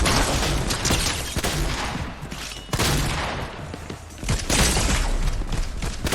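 Loud, dense bursts of gunfire in a video game, coming in rapid overlapping volleys with short dips between bursts.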